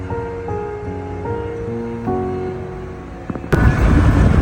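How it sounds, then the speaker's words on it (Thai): An artificial waterfall in a shrine arch at Wat Phai Lom, a Thai temple in Nakhon Pathom, bursts in as a loud, steady rush of falling water, following a stretch of soft tonal music. "อันนี้ก็จะเป็นซุ้มนะครับที่ทำเป็นน้ำตกนะครับ"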